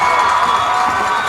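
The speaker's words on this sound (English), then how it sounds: "You can just hear the crowd roaring right now." A high school football crowd roars and cheers in a stadium during a Lakeside Rams versus Sylvan Hills game, a loud, steady wall of massed voices that holds without a break from start to finish.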